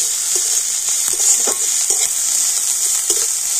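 Finely chopped onion and green chillies frying in oil, a loud, constant sizzle with soft stirring scrapes throughout and no voices.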